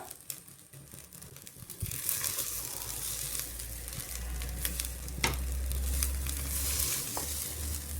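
Rice and grated coconut are stir-fried together in a pan for sweet coconut rice, giving a steady sizzle with scraping stirs and a louder frying hiss after the first couple of seconds, no talking.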